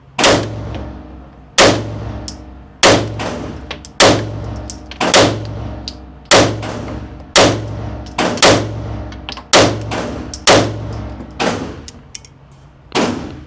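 Repeated gunshots from a MAC 9 DS Comp 2011 pistol fired at 7 yards, about ten sharp, loud reports at a steady pace roughly a second or so apart, each with a short ringing tail, no talk.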